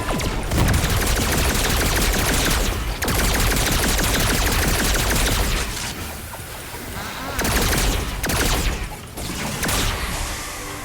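MSK pistol firing in Storm King's Onslaught, a dense, relentless barrage of rapid shots with brief pauses between bursts, loud and close throughout.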